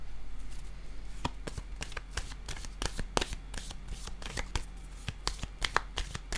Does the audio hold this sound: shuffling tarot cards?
yes